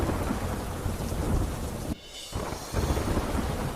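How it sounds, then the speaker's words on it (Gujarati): Heavy monsoon downpour with rumbling thunder during the season's first rain, a dense steady roar of rain on surfaces that drops out briefly in the middle before resuming at full loudness. "ભારે ઉકળાટ બાદ વરસ્યો ધોધમાર વરસાદ"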